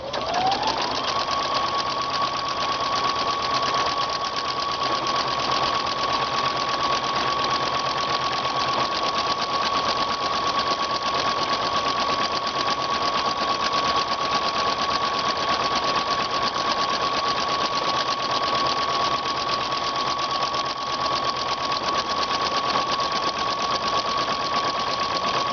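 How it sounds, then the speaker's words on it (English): A Baby Lock Ellure Plus sewing machine stitches a buttonhole at medium-high speed, giving a steady, close, even whirring hum with a constant tone throughout and no voices. "It's best to do a buttonhole on medium to medium high speed so that it feeds evenly."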